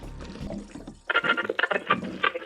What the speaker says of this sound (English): pour the gas in that access valve